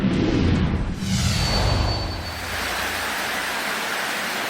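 Heavy rain pours over floodwater during monsoon flooding in Palimbang, Sultan Kudarat, a loud, steady broadband rush with a brief surge in the first two seconds, no talk over it.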